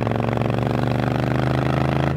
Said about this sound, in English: It's such a nice sounding engine.